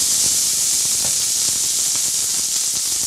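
Rice added to a hot pan for an Indian rice dessert hisses steadily and loudly, a constant bright sizzle with faint crackles throughout and no voices.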